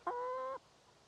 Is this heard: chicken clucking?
yes